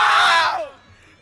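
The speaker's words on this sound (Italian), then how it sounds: "mi fate un urlo che avete vinto?" A crowd of young winners at a music festival shouts together in celebration, a loud burst of massed voices that drops away after about half a second, leaving a quiet tail.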